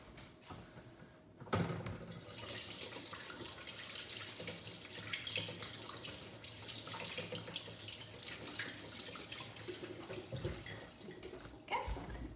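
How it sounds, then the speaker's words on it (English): Tap water runs steadily into a kitchen sink as hands are washed, a close, continuous splashing hiss that starts abruptly and carries on for several seconds before cutting off near the end. "I'm just gonna quickly wash my hands."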